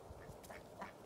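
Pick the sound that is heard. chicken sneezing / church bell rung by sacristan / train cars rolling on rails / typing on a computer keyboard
chicken sneezing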